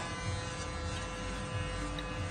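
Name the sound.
electric clippers shaving a head bald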